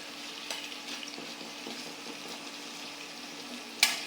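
Banana and onion fry in a pan on an electric stove, a soft, fairly quiet sizzle with light stirring scrapes and a brief clatter near the end.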